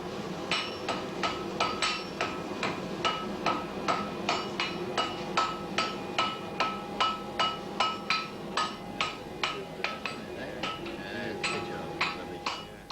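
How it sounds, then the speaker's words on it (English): A blacksmith's hammer strikes metal in a steady, even rhythm, about two ringing blows a second, loud and close, with no pauses. "The auctioneer's gavel is often preceded by the blacksmith's hammer."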